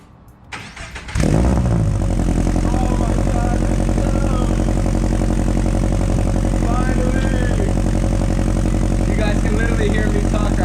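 Car with a homemade DIY exhaust silencer starts up after a few cranking clicks, then settles into a loud, steady, low droning idle that runs continuously to the end.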